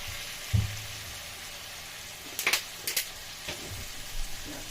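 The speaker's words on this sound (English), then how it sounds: "So now I'm going to add a little bit of water." Water poured into a pan of frying vegetables, a low hiss punctuated by a few sharp bursts of sizzle and spatter, moderately close, with no talking.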